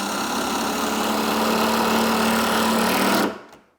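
A power drill bores steadily through a cabinet face frame, a loud close continuous whine held for about three seconds before the motor stops abruptly.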